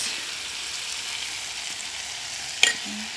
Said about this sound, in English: After adding your potatoes, stir in here